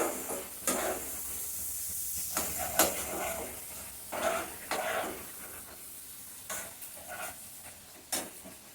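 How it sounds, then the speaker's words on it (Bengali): Masala spice paste with chilli and turmeric powders and a little sugar cooks in a pan, quiet sizzling and hissing broken by repeated scraping stirs, close and fairly soft, without talk. "চিনি দিয়ে মশলাটাকে কষাবো।"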